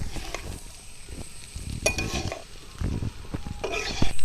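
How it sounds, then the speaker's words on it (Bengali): A spoon stirs pasta in a paneer sauce in a pan, with close scraping and clinking against the metal over a soft sizzle, in uneven bursts and without talk. "এবার একটু ঘেটে নিতে হবে বন্ধুরা"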